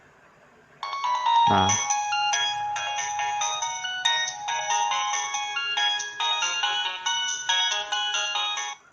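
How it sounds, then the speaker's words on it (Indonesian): A Nokia 7260 phone plays a game ringtone, a bright, busy polyphonic electronic melody ringing nearby for several seconds after a short word and a brief low knock. "itu ringtone dari game guys ya"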